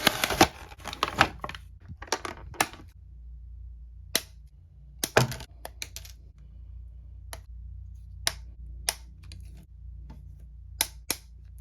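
Crinkling plastic and cardboard packaging is torn open to free a Donatello action figure, heard as a burst of ripping and crackling followed by scattered sharp clicks and snaps.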